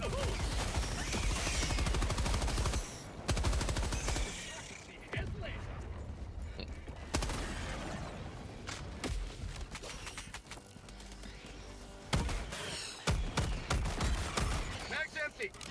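Rapid bursts of video-game gunfire crackle loudly in repeated volleys, with short gaps between bursts and a voice shouting over parts of the shooting.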